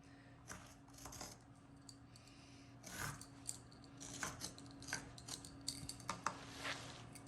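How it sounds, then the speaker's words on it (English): Scissors snipping through a carpet template during a hallway carpet install, a series of short crisp cuts and clicks at close range, spaced irregularly over a low steady background hum. "Trace cut, 1 inch out."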